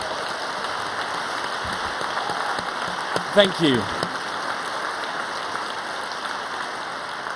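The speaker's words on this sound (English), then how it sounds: "I will take that applause" Sustained audience applause at the One Young World human rights plenary rolls on as an even, moderately loud wash of clapping, and a speaker briefly says a few words partway through.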